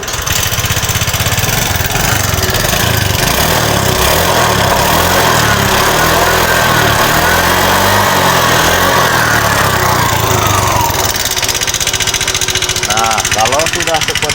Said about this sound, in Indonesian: Motornya kita starter kembali